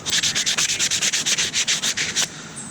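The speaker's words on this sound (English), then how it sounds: "I'm going to sand it facing this way so none of that stuff gets inside." A part is sanded by hand with 400-grit sandpaper in fast, even back-and-forth strokes, about fifteen rhythmic rasps close by, then it stops abruptly, with no talking.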